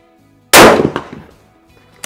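A bolt-action rifle, an ATA Arms Turqua or Mauser M18 Basic, fires a single loud, sharp shot during target shooting. The blast decays over about a second, then a faint click follows.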